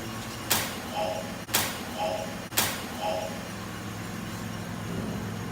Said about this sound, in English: I had the door open as I was backing up, and hit the lift